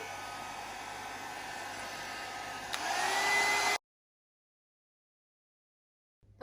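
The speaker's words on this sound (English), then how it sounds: "Let's have a quick blast with the dryer." Hair dryer blowing on a watercolour painting, a steady loud whooshing hum that rises in intensity before cutting off abruptly, followed by silence.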